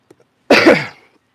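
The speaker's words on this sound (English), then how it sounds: "Sorry about the coughing, y'all." A single harsh, close cough, loud and abrupt, lasting about half a second while fishing for catfish on the Cooper River, preceded by a couple of faint small sounds.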